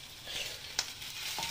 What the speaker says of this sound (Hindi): हरी मिर्च जब हमारी थोड़ा सा भुन जाएगी